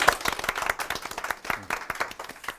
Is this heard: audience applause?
yes